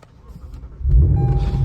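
A straight-piped FBO Lexus RC F engine cranks and fires up close by, a soft whir building into a loud, steady low rumble at idle.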